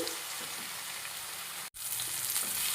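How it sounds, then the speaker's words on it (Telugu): Onion and tomato sizzle steadily in a hot pan, a close, continuous hiss with one brief break partway through. "ఉల్లిపాయ టమాటా బాగా వేడిపోయింది"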